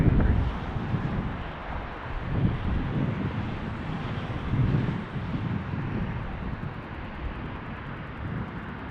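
A Delta Airlines Airbus A350 handles a gusty 20-knot crosswind at Las Vegas, a distant low jet rumble mixed with buffeting wind noise on the microphone throughout.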